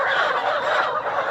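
Layer hens in a poultry shed keep up a dense, steady chorus of overlapping clucks and squawks, loud and close with no pauses.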